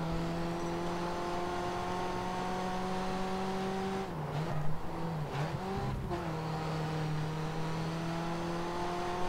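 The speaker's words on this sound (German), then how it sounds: "Wie der Motor sich anhört." Honda NSX race car engine in the racing video game Grid Autosport, a sustained harmonic drone that dips and recovers through a couple of quick downshift-like wobbles mid-run, with faint tire noise beneath and no talk.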